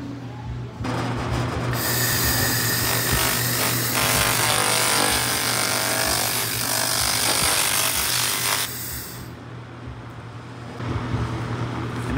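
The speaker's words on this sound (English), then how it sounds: "we're gonna start with 50 hertz at 300 millimeters" A 2000 W continuous-wave laser cleaner working on steel samples gives a loud, dense hissing, crackling burst of about eight seconds, with a steady hum running before and after it.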